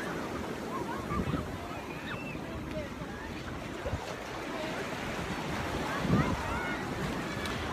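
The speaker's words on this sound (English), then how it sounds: "We are at Newport Beach and sitting out on this jetty." Waves washing against a rock jetty at Newport Beach, California, a constant churning ocean wash with a few louder surges, heard up close with wind in the background.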